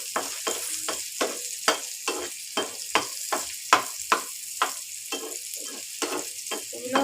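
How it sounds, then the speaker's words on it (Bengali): Vegetables and an egg fry together in a pan, a steady sizzle cut by regular scraping stirs about every half second, close and moderately loud with no talking. "এগুলোও ভাজা হবে আর ডিমটাও ভাজা হবে।"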